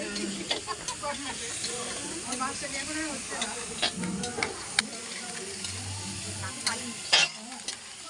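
Cumin and coriander go into a hot pan with fish oil, a steady sizzle and hiss running throughout with scattered stirring clicks while a person talks over it.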